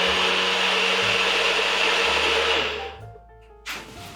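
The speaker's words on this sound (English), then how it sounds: "And then you just zhuzh that up in the blender." A kitchen blender whirs steadily as it purees a lime-juice curry marinade for Thai chicken, running loud and continuous before spinning down and stopping near the end, followed by a brief clatter.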